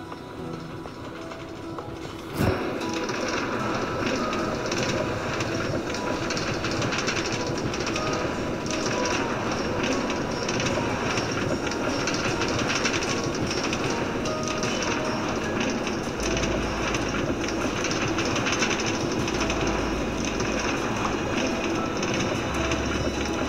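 Steady rumble and rattle of a New York City A express subway train riding at speed, a continuous loud rolling drone inside the car after a sharp jolt near the start.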